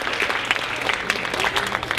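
Brief burst of audience clapping, many hands patting together in a dense, even wash that stays at a constant moderate level without any voices over it.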